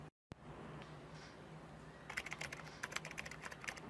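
Quiet computer keyboard typing, first a faint near-silent stretch, then a quick run of crisp key clicks in an uneven rhythm entering login details, close to the mic.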